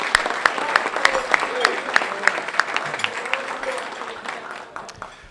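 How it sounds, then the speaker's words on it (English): An audience at a transportation club awards dinner in a hotel banquet room applauds the hotel staff, with scattered sharp claps that thin out toward the end, moderately loud and close. "a round of applause for the DoubleTree, the staff here."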